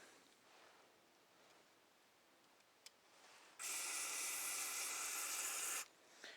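Aerosol carb cleaner is sprayed through the needle and seat of a Tecumseh diaphragm carburetor from a Toro S-series machine during a rebuild: after a quiet stretch comes one loud, steady hiss lasting about two seconds, then it cuts off.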